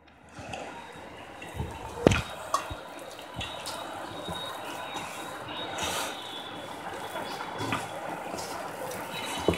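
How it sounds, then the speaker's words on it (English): Spinach puree dough for palak paratha, mixed with flour, is kneaded by hand, giving soft, irregular wet squishing and pressing sounds with scattered sharper taps, close and steady, with no talking. "Now I'll add my remaining flour, and I will knead all of this together."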